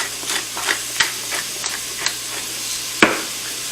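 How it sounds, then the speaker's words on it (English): Onions and shallots sautéing in an Instant Pot, with a soft sizzle under scattered spoon stirs and light scrapes against the pot, one sharper clack near the end. "my onions and shallots are really cooking away"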